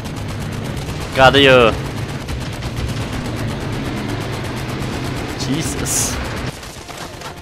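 Gunfire in the VR shooter Medal of Honor: Above and Beyond, a dense steady rattle of shots and explosions running under the whole stretch, with someone talking briefly over it.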